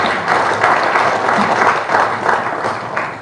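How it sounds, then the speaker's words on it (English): Audience applause for a speaker at a youth meeting on peaceful polls in Greater Kigezi, steady dense clapping throughout, loud and close. "So I want us to clap for him."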